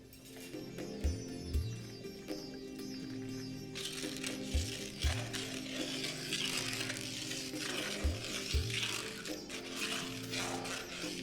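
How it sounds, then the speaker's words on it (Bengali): A utensil scrapes and stirs green peas in a wok with a soft sizzle underneath, the strokes coming in repeated scraping pairs every few seconds. "তারপর সেটাকে একবার ভালো করে মিশিয়ে নিন"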